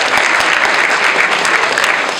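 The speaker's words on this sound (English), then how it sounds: "I encourage you guys to clap if you hear something you like" Loud, dense applause from a school audience during a student council president's State of the School address at Severn School, a steady wash of clapping sustained for the whole stretch.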